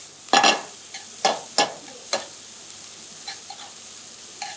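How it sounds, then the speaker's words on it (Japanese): Minced garlic fries in a pan over medium heat as it is stirred, giving a few sharp sizzling bursts that fade quickly, the first loudest and later ones fainter. "ニンニクのみじん切りはここで入れます。"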